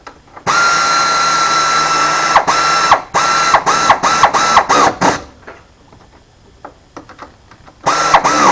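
Ratchet tightening the bolts on the idle air control valve of a Ford 5.4 engine: loud, close mechanical clicking in a long run, then several short bursts, a quiet gap, and one more run at the end.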